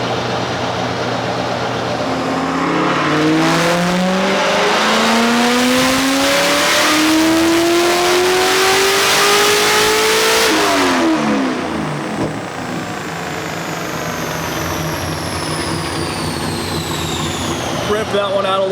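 A car engine on a dyno climbs loudly through one long sweeping pull, the pitch rising to a peak before the throttle lifts and the revs fall away, followed by a whining spool-down, close and continuous.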